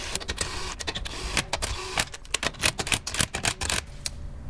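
A DeWalt impact gun snugs up lug nuts on a wheel during a disc brake job, giving a series of short, loud mechanical bursts in an irregular rhythm, close by, with no talking.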